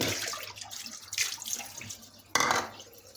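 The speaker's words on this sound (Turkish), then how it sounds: "sıcak suyu açayım." Hot water runs from a kitchen tap into a sink during dishwashing, a steady soft hiss of flowing water with a brief louder splash near the end.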